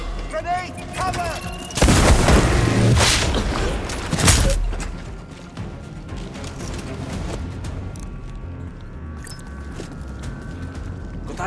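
A grenade explosion and gunfire in the shooter game Sniper: Ghost Warrior Contracts 2: a deep, loud boom followed by a second heavy blast, then rumbling battle ambience and scattered distant shots fading out.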